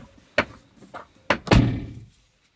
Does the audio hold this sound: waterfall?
no